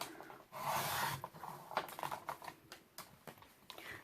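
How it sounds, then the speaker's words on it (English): Scissors or a trimmer cutting paper for a mini album pocket, quiet crisp snips and rustling, with several short bursts at an uneven pace, close up. "So I'm going to cut it."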